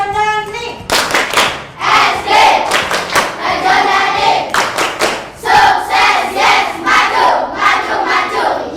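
Primary schoolchildren in a classroom chant a rhythmic class cheer together, punctuated by sharp unison clapping, loud and close, shouted voices and claps alternating in a lively beat.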